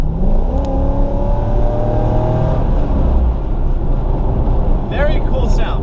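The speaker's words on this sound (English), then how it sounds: "even though it's just an LS1 with a check engine light, it's a very good sounding car" A Corvette's LS1 V8 engine, running with a check engine light on, revs hard and loud, holding a steady roar with rising pitch before settling, while voices murmur faintly underneath.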